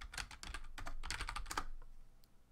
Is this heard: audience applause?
no